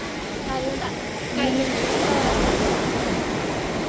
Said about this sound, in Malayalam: കടൽ കണ്ടോ ഇന്ന് വരെ കടൽ ഇങ്ങനെ അടിച്ചു വരിക